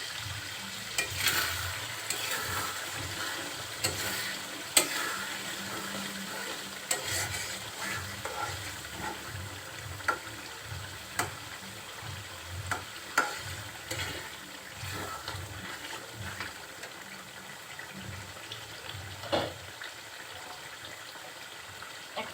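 Tripe cooking in water in a covered pan gives a low, continuous simmering hiss with scattered clinks and stirring knocks, fairly faint and close, with no talking.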